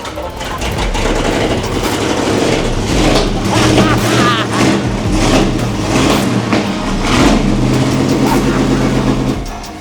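An AC Cobra engine runs steadily after starting, a loud low throbbing idle with an uneven rumble that continues throughout, with people talking over it.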